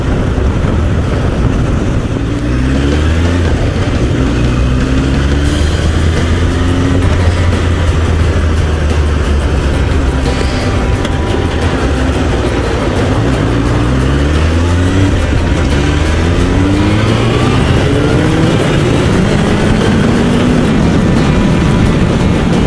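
A Honda CBR1000F motorcycle engine running loud and close, its pitch climbing repeatedly as it accelerates through the gears, with rising and falling revs over constant wind noise.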